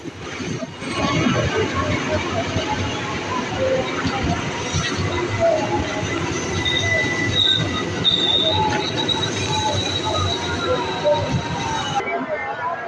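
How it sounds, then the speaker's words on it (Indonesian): An electric KRL commuter train on the Bogor Line rolls into Manggarai station, Jakarta, with a steady rumble and high, drawn-out wheel squeals, loud and close, with faint voices in the background. "ini KRL yang menuju Depok atau Bogor nih"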